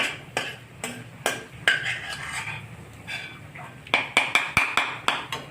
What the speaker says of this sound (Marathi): कांदा झाल्यानंतर टमाटा सुद्धा परतून घेणे.